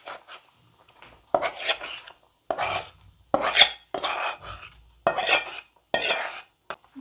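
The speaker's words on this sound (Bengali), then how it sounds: "আলুগুলো গলিয়ে নিয়েছি, এবার দিয়ে দেব।" Mashed potatoes scraped into a pot of thin fish curry with drumstick vegetables, heard as a run of close, loud bursts of metal spoon scraping and clattering against the pot with short pauses between, no voices.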